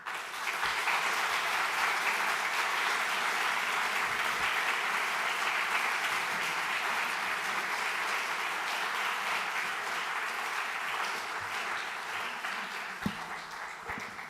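Sustained applause from a church congregation during a service, steady and dense clapping filling the room for the whole stretch without a break, a single sharper clap standing out near the end.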